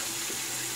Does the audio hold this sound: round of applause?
no